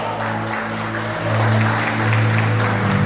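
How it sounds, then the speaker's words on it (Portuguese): A church congregation applauds during a Friday service, a continuous wash of clapping blended with sustained musical tones that swell louder partway through. "Aplauda o nome do Senhor Jesus"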